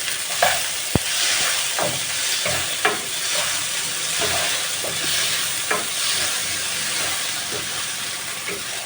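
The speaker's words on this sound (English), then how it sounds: "Give it a very good stir." Tomatoes for shakshuka sizzle and hiss in a hot pan while being stirred, a steady frying wash punctuated by repeated spoon scrapes and knocks against the pan.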